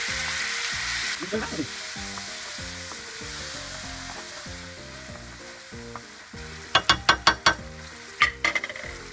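Food sizzles and fries steadily in a fryer under background music, with a run of sharp mechanical clicks near the end.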